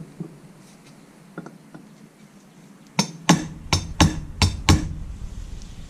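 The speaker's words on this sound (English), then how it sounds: "put the plastic end on the tip of the valve and smack it with a hammer" Several sharp, ringing hammer taps on a screwdriver's plastic end set on a Toyota 7AGE valve tip, a quick series of about six blows after a few fainter knocks in a quiet space.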